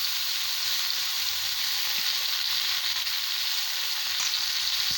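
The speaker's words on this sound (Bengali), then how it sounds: "আনাজটা কষানো হয়ে গেছে এবার আমি শাকটাকে দিয়ে দিচ্ছি" Spinach goes into a pan of vegetables already frying in oil, giving a constant, fairly loud sizzle throughout with a few soft stirring knocks beneath it.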